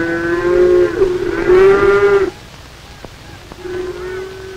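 Beef cattle in cattle market pens moo loudly with long drawn-out bellows, two overlapping calls followed by a quieter, more distant low moo.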